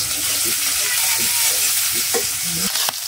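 Lentils and onion sizzle in a hot pan, a loud, steady frying hiss with a few scraping stirs near the end and no clear talking.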